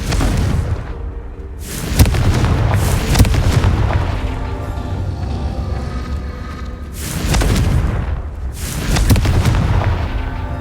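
Confringo spell blasts in the video game Hogwarts Legacy: heavy, booming explosions that hit loud and close, with long rumbling roars that swell and fade in waves.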